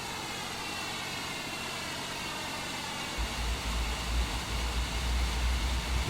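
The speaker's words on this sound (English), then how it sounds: "Let's go outside and we'll just watch the engine start up, shall we?" Boeing 787-9 engines spinning up in a flight simulator, a steady broadband whine and hiss that gains a deep rumbling low end partway through, with no talk.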